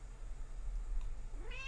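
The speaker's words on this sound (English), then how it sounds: "Kitty cat." A pet cat lets out a single short meow near the end, rising then falling, close by over a quiet low hum with no talking.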